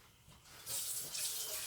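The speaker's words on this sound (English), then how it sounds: "I might have to add some more water with that." Water runs from a kitchen tap into a pot of dirty rice, starting faintly and then swelling into a steady hissing stream, quiet and close.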